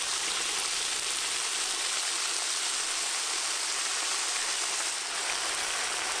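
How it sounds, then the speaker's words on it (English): Broad, steady hiss of stock simmering and reducing in a very hot pan, continuous and fairly close with no talking. "I'm going to pour in that stock that we're making on the side"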